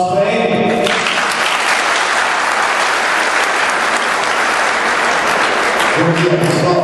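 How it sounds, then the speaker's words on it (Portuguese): Loud, sustained applause from an audience at a school talent festival, a dense wash of clapping lasting several seconds, with a voice speaking just before and after it. "Aplausos para ele."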